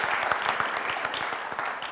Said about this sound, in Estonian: Et suur aplaus osalejatele.